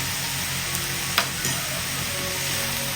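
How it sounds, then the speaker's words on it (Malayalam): Onions with chili flakes frying in a pan give a loud, continuous sizzle, broken by a few light clicks of a spoon stirring, close up with no voices. "ഒരു മിനിറ്റും കൂടെ ഒന്ന് ഇളക്കി കൊടുക്കാം"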